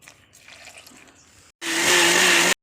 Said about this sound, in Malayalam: ഇനി അരയ്ക്കട്ടെ വെള്ളം ഒഴിച്ചിട്ട്.